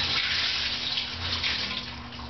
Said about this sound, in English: what I'm going to do is pour off the water